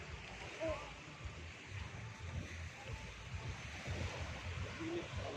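Ocean surf washes steadily on a beach on Boracay island amid gusty wind noise, with people talking faintly in the background.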